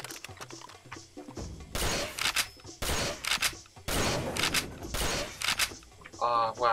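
Double-barrel shotgun blasts in the video game Far Cry 2 come as several loud, close reports with gaps between them, each followed by a short decaying rumble, while someone talks between and over the shots.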